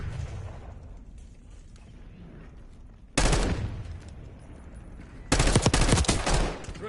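Loud gunfire bursts and a sharp flashbang blast in a tactical shooter video game, two heavy broadband bursts around a quieter stretch of distant shots.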